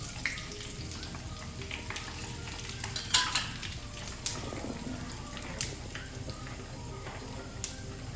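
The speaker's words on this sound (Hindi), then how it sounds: "सौंफ और दाना मेथी सीख रही है।" Fenugreek and fennel seeds dry-roasting in a pan for a raw mango pickle, giving a faint steady sizzle with light crackles and occasional scrapes of stirring.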